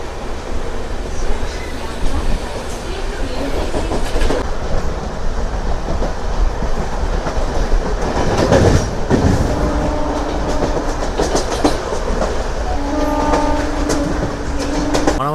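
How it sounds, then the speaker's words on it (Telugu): Tirupati–Puducherry MEMU express running fast on the main line, a steady loud rumble of wheels and rail with clacking and rattling throughout, and a brief horn-like tone near the end. "సో మన ట్రైన్ మెయిన్ లైన్లో ఉంది కదా. స్పీడ్ అయితే చూడండి ఒక రేంజ్ అయితే లాగేస్తున్నారు."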